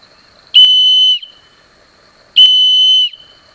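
A survival whistle gives two shrill, piercing blasts, each lasting a little over half a second, separated by a brief pause. It is loud and close, with no voices.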